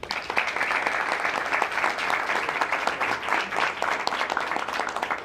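An audience at an open house event claps in sustained, loud applause, a dense and continuous patter of many hands that stays level throughout.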